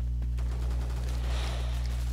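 Bursts of gunfire in the video game Phantom Forces, a rapid volley of shots crackling over a low steady hum, moderately loud and with no talking.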